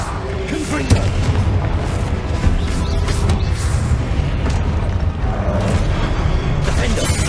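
Confringo fire spell blasts in Hogwarts Legacy, a dense, continuous roar of booming impacts and crackling combat noise throughout, with a few sharper hits standing out.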